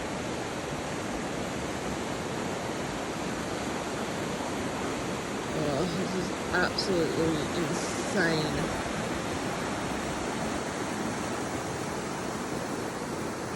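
A river swollen by flash flooding on an Australian farm after severe overnight storms roars with steady, loud, broadband rushing water, while a person briefly exclaims over it midway.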